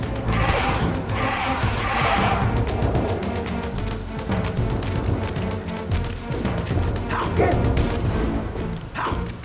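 A dog creature in the video game Soul Reaver 2 barks and yelps repeatedly amid loud, dense game noise and crashing effects.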